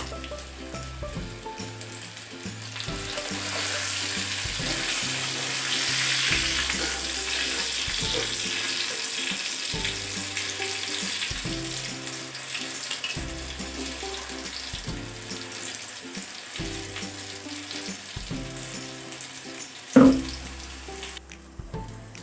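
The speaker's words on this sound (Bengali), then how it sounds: "এইভাবে সবগুলো ভেন্ডি ফ্রাই করে নেব।" Okra pieces for kurkure bhindi frying in hot oil in a pan, a steady close sizzle with repeated stirring thumps and a sharper clank near the end, no talking.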